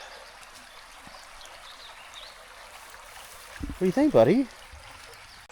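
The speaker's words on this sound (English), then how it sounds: "I hear a noise. That's the river." A river rushes steadily in the background at Ridgway State Park, a soft continuous flow, while someone speaks briefly near the end.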